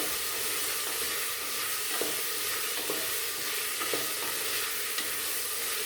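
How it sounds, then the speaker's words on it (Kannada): Soaked lentils fry in hot oil in a pan for a hyacinth bean sambar, giving a steady close sizzle with a few soft stirring scrapes and no voices. "ಇದೊಂದು ಸ್ವಲ್ಪ ಬೇಳೆ ಚೆನ್ನಾಗಿ ಎಣ್ಣೆಯಲ್ಲಿ ಫ್ರೈ ಆಗಲಿ."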